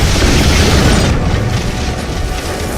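A bomb explosion in a war story about a sniper fighting Iraqi forces, a loud, dense roaring blast that fills the whole clip and rumbles on without pause.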